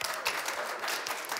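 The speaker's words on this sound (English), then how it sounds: "round of applause for everybody" Audience applause at an artist roundtable event: a short burst of steady, dense clapping from a crowd, moderately distant and fairly soft.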